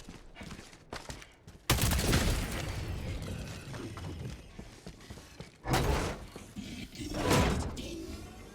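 A big gun fires in a tank-themed video game, with loud close bursts of heavy gunfire in several separate volleys, each with a sharp onset and a long rumbling tail, and quieter mechanical clanks in between.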